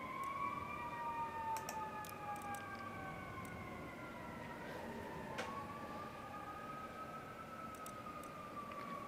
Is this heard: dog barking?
no